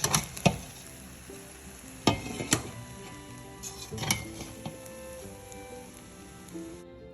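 Spoon scraping and stirring through a pot of cooked chicken biryani rice, with several sharp scrapes and clanks over a soft background hiss, close and fairly loud, no talking.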